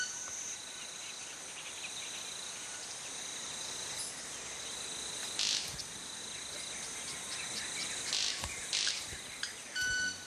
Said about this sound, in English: the sounds come not from the bird's mouth, but from its wingtips